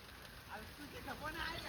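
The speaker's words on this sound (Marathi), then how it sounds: "पाऊस कंटिन्यू पाऊस एकदम खतरनाक कंटिन्यू गाईस पाऊस" A steady wash of rain hisses continuously in the background while a person talks over it.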